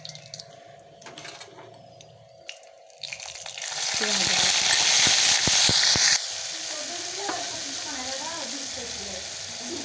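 Black cumin seeds, a cardamom pod and dried chili hit hot oil, a sudden loud sizzle that flares up for a couple of seconds, then settles into a softer steady frying crackle after quieter handling noises.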